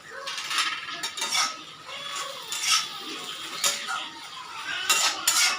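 A cook lifts the lid off a pot of Malabar spinach (pui) leaves steaming in their own water, with several close, sharp metallic clinks and clatters spread over a few seconds.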